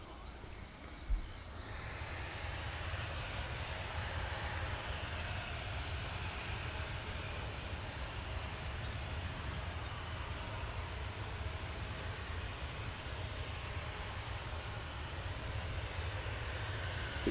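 An airliner on the Singapore flight passes with a continuous broadband roar that swells in after a brief knock near the start and then holds steady and fairly distant.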